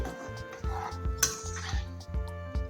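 A spoon stirs coriander into okra curry in a metal pot, clinking and scraping in a quick repeating rhythm up close, with a low steady hum underneath.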